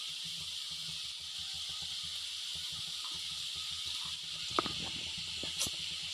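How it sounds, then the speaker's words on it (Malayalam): Fish pieces dropped into a pan of cooking brinjal give a steady, close hiss of frying, with a few brief clinks and stirring sounds near the end and no talking. "ഞാൻ ഈ മീനിൻ്റെ കഷ്ണങ്ങൾ ഇതിലേക്ക് ഇട്ട് കൊടുക്കുകയാണ്."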